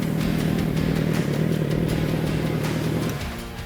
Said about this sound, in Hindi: so one of my friend is coming on a beautiful bike